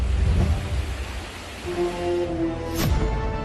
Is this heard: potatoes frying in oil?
no